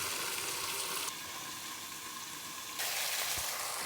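Meat hits hot oil in a frying pan for a South Indian thaali salna, giving a steady close sizzle that drops and muffles once a lid goes on, then brightens again, with no talking.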